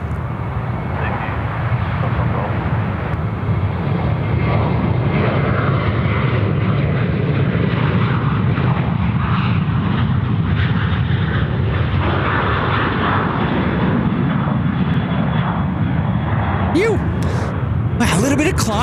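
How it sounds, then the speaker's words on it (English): A Velocity aircraft takes off from Sydney Airport on a service to Brisbane, its engines producing a loud, sustained roar that holds steady throughout, with faint clicks near the end. "Velocity aircraft now departing, service going to Brisbane"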